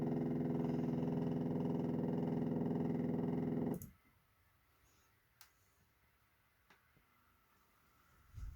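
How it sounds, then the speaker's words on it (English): New motor on a model railway turntable running with a steady buzzing hum for about four seconds, then stopping abruptly, leaving near silence broken by a few faint clicks. "With this new motor and control module, the turntable works a lot more better and reliably than it ever used to"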